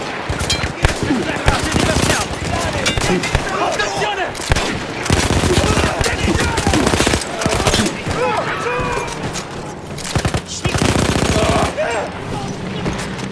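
Mounted machine gun in the Battlefield 1 video game, taken over from Austro-Hungarian troops, roars in loud sustained bursts with short gaps, dense and continuous throughout, with game voices faintly mixed in.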